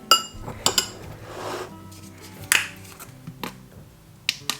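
A spoon stirring tuna with mayo and chopped pepper in a bowl, giving scattered clinks and taps of metal on dish over a soft scraping mush, close and moderately loud.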